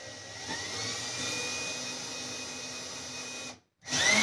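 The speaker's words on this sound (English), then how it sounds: "So we're going to drill it." A power drill boring a screw hole part way into wood while fitting a soft close cabinet hinge, a steady high whine held for about three seconds before cutting off, then briefly starting again.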